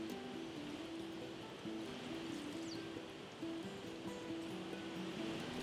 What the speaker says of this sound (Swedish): Norr om Överkalix finner man älvens största vattenfall,